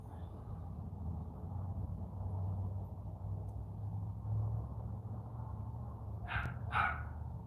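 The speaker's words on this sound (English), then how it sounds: "the one that's barking now, he's half rat terrier and half Jack Russell" A rat terrier and Jack Russell mix puppy gives two quick sharp barks near the end, heard at a modest distance over a low steady background rumble.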